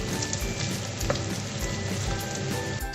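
Food sautés in a hot pan, giving a dense, steady sizzle with small crackles and pops. It is close and continuous, with no voices.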